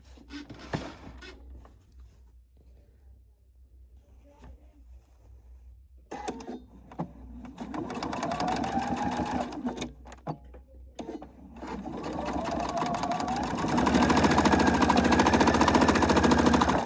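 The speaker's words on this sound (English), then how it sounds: "you're actually just going to sew over those lines" A sewing machine stitches quilt lines on fabric, in bursts of rapid mechanical chattering separated by pauses, growing louder and steadier toward the end, close by with no speech.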